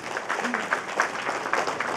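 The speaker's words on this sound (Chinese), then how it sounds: "先给予我一个掌声好不好？" Audience applause at an evening gala event, a steady round of clapping from a crowd, moderately loud and continuous for a couple of seconds.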